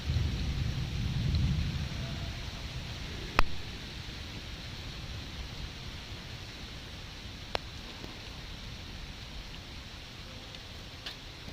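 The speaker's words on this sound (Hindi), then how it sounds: "रात्रि से प्रातः काल तक ये वर्षा अब भीषण बढ़ चुकी है।" Heavy rain pours steadily in a forested area, a dense even hiss throughout. A low thunder rumble swells at the start, and a few sharp distant cracks stand out over the downpour.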